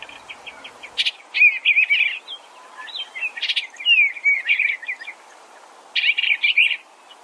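Bluebird song in short bursts of high, bright chirps and warbles, three separate phrases repeating at close range over a faint background hiss.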